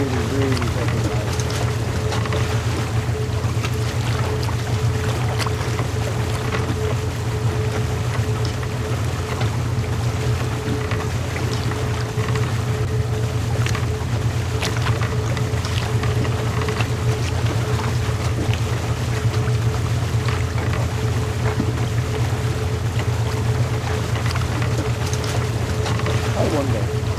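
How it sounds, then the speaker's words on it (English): A loud engine drones steadily and continuously at close range, a constant low hum with wind-like rushing over it that never lets up. "That engine is really fucking loud."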